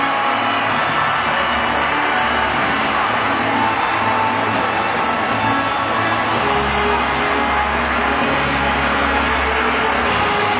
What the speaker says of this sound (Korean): 관중들도 큰 박수로 화답하고 있습니다